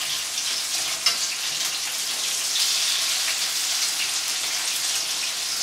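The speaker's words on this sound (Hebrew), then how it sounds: "טיגון כאן הוא די מהיר," Schnitzel-style meatballs fry in oil in a pan, giving a continuous bright sizzle and crackle with small pops, steady and close, without any talking.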